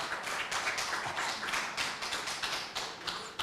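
An audience at an election campaign program claps for a speaker, producing many sharp, distinct claps in an uneven rhythm that stay fairly loud for the whole stretch.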